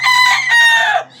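A single rooster crow, close and loud, one long sustained cock-a-doodle-doo that fades out near the end over a faint steady background hum.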